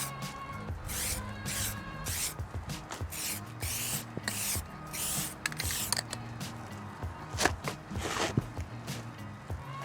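An aerosol can sprays primer onto rusted metal outdoors in continuous hissing bursts with short pauses between passes, close and steady, with occasional light clicks and shuffling underneath.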